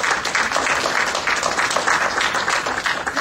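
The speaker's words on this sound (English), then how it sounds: "Let's applaud again for our panel" An audience at a religious leadership dialogue workshop applauds the panel, producing steady, dense clapping that fills the whole stretch at an even, moderately loud level.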